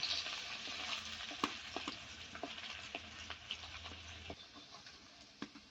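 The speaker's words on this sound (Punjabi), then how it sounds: "ਲਸਣ ਤੇ ਅਦਰਕ ਇਹਨੂੰ ਕਰ ਲੈਣਾ ਚੰਗੀ ਤਰ੍ਹਾਂ ਫਰਾਈ" Garlic and ginger fry steadily in a hot pan for cabbage and green pea sabzi, a continuous close sizzle broken by scattered crackles and occasional clicks of a stirring spoon.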